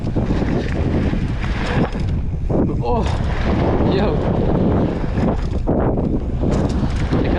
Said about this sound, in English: Oh, it's windy today.